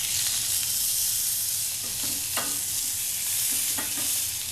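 A tenderloin sears in a hot, oiled pan with a loud, steady sizzle and spatter that continues without pause, with no talking.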